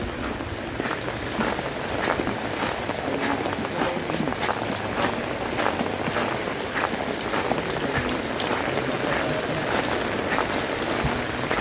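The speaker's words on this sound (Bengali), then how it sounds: "শুরু হয়েছে বৃষ্টি" Heavy, steady rain pours down in Narsinghdi, Bangladesh, during Cyclone Remal, a dense continuous hiss of drops striking surfaces that stays loud and even throughout with no voices over it.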